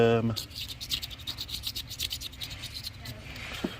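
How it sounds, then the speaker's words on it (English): Scraping and scrubbing of a Ford truck engine part with a Scotch-Brite pad and brake cleaner, heard as close, steady rasping rubs in quick repeated strokes after a brief low opening sound. "Just been doing a little bit of scraping, a little bit of brake clean, Scotch Brights,"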